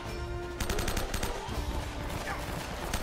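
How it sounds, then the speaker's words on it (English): Sustained automatic gunfire rattles through a firefight in Uncharted: Drake's Fortune, loud and rapid with dense repeated shots over game ambience. "I'm going in there. Bullets blazing"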